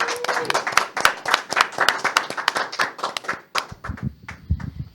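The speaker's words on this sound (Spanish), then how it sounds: "Agradecemos y despedimos a José Pablo Bonilla con un fuerte aplauso." A small group claps for a departing guest, distinct individual hand claps in a quick uneven rhythm, close and fairly loud, thinning out toward the end.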